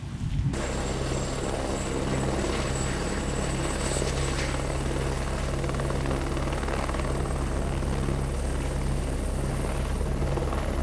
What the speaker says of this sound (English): All right, I'm gonna get this drone home